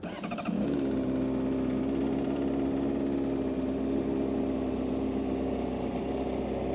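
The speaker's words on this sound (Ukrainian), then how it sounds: "Запустимо двигун." A 2012 Honda CBR600RR motorcycle engine starts up and settles into a steady, rumbling idle, loud and close, holding an even low throb throughout.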